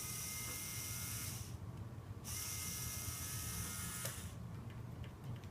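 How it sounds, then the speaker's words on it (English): A small Lego motor runs inside a battery box mechanism, a continuous high electric whir with two brief dips in the upper hum, quiet and close with no talking. "So we'll put on our motor."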